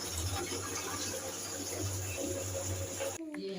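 Water gushes steadily from a water supply tap, a continuous close splashing stream over a low hum that cuts off abruptly near the end.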